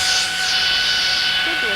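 Airplane engine in a flight simulator video game: a steady, loud jet roar and whine holding constant throughout the short stretch, with no break.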